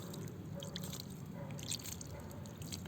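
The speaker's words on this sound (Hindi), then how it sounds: "ये इस तरह से पानी डाल दिया" Water poured from above onto soil in a seed pot sown with spinach and beetroot seeds, a soft continuous splashing and dripping trickle held close for about three seconds with no voices.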